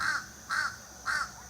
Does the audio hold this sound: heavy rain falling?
no